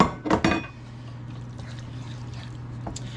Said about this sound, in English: I'm going to go ahead and put those delicious onions we were talking about earlier.